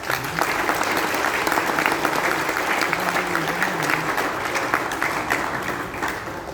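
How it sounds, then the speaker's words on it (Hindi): A training-session audience breaks into loud, sustained applause, a dense steady wash of clapping that holds evenly throughout. "जोरदार तालियां हो जाए आपके लिए।"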